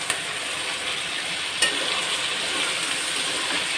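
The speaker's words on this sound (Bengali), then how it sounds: "আমি এই উস্তে আলুটা দিয়ে দেবো।" Bitter gourd and potato pieces go into a hot frying pan, giving a steady broadband sizzle with a couple of sharp clatters near the start and midway, no talk.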